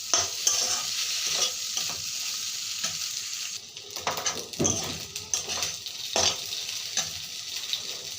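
Pasta with pasta masala sizzles and fries in a pan while a utensil stirs it, with scraping and clinking in bursts over the steady crackle. No one speaks.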